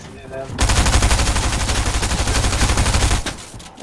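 Rapid sustained video game gunfire, a loud dense burst of automatic shots rattling for about two and a half seconds before cutting off, with faint talk around it.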